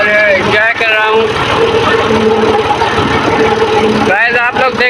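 A tractor engine runs steadily during a ride through farm fields at wheat harvest, with a loud, constant mechanical drone under someone talking.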